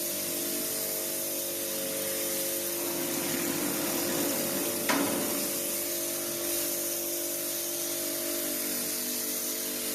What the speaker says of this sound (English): the pressure washer takes it all off.